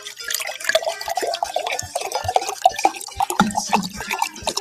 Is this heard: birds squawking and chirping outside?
no